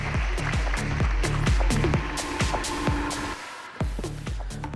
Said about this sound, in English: please join me in extending him a very warm round of applause